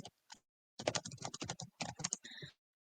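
Rapid clatter of keys on a computer keyboard, a short burst of taps followed by a longer quick flurry of typing, close and fairly quiet, with no voices over it.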